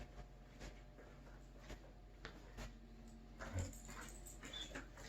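A dog whimpers faintly indoors, soft thin whines scattered over a quiet background hum.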